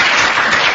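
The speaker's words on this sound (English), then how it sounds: "Big hand of applause." A radio studio crowd gives a short burst of applause, dense and loud for under a second.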